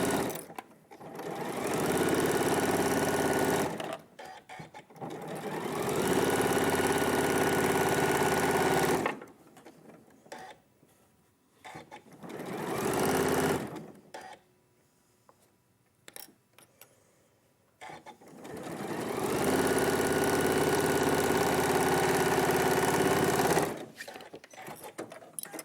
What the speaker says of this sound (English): And then we're just going to stitch that bit together.